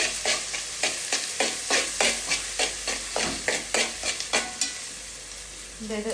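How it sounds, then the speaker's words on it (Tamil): Onions fry in a pan for fried rice, a loud close sizzle with rapid rhythmic stirring strokes, roughly two per second, and no talking. "ஃப்ரைட் ரைஸ் போடுறதுக்கு வெங்காயம் போட்டாச்சு"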